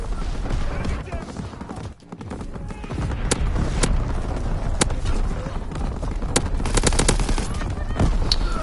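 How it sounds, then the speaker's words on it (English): Naval guns firing a primary battery salvo in a video game, a series of sharp booming shots over continuous loud battle rumble and engine noise, with a brief dip near the start. "Firing primary battery."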